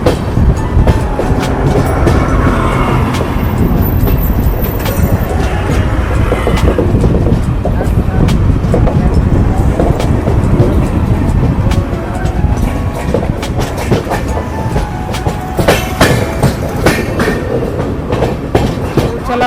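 A passenger train runs on rails between Malda and New Farakka Junction on the way to Rampurhat, giving a loud, constant rumble with rapid wheel clatter and faint voices beneath.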